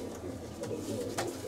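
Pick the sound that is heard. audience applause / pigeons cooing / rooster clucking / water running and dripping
pigeons cooing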